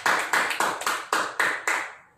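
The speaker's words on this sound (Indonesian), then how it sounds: "Kita berikan tepuk tangan bagi Tuhan Yesus." A congregation claps in unison during a church service, seven strong, evenly spaced claps in a slow steady rhythm, each ringing briefly before the next, with the last one fading out.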